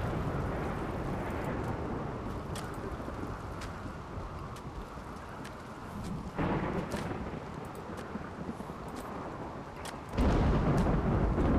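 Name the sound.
thunderstorm in the video game Rimworld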